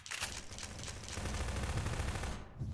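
Rapid automatic gunfire from Garry's Mod, fired in a dense continuous burst at an object, with loud cracks repeating steadily for over two seconds before cutting off.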